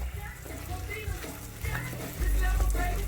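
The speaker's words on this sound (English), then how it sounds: "You want to give it a nice stir" Fruit compote being stirred in a hot pan on an electric stove, a steady sizzle and bubbling with scraping stirs, growing louder near the end.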